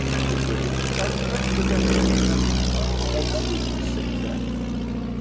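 A rare vintage propeller aircraft engine drones steadily nearby on a runway at Old Warden, a throbbing low rumble that swells slightly midway and then continues evenly.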